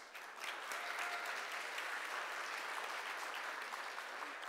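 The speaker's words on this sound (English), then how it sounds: "I think that deserves a round of applause" An audience at a Meizu smartphone launch event applauds, a faint but steady, even roar of many hands clapping that holds for several seconds.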